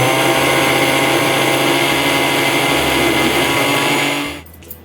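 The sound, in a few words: electric mixer grinding green chillies into paste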